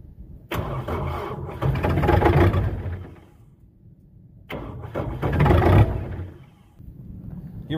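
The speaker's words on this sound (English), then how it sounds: "True cold start." A Kubota diesel tractor engine is started cold, on a freezing day with the block heater left unplugged overnight. It cranks and catches in two attempts, each rising to a rough, loud chug before dropping back, close by with no talk.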